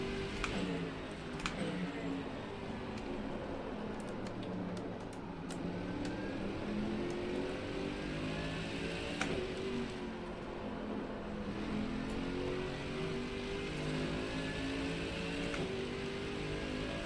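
A Porsche race car engine in the racing video game Rennsport, revving up and down through gear changes with a steady droning whine, joined by faint ticks and clicks.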